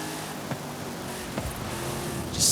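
A vehicle engine roars steadily up close as the throttle is stabbed to keep it moving over rough ground, with a louder surge of power near the end.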